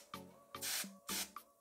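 Makeup spray hissing from a can in two long bursts, each preceded by short clicks of the nozzle, close and fairly quiet with no talk.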